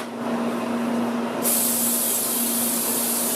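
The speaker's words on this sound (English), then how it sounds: "You got to spray your spatula with Pam." A can of Pam cooking spray is sprayed onto a spatula in a bakery kitchen: a bright, close hiss bursts in partway through and holds steadily over a low background hum.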